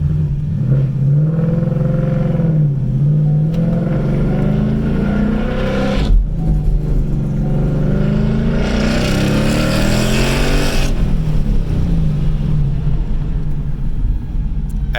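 Driving a 2016 Ford Mustang Roush Stage 3 brings a loud, close engine roar that rises and falls through revs and gear changes, with a hard acceleration surge late on and no talk over it.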